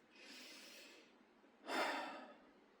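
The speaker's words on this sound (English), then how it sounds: "Try taking a breath." A person takes a slow breath in and then lets out a louder, airy exhale, both close and clear with no speech.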